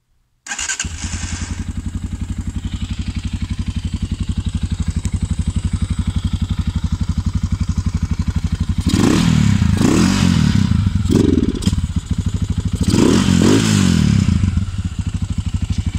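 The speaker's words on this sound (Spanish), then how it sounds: "Y ahora voy a encender la moto para que ustedes la escuchen." A Loncin SX2 250 motorcycle, cold after sitting all day, starts abruptly and settles into a steady, loud, close idle, with two stretches of sharper revving partway through.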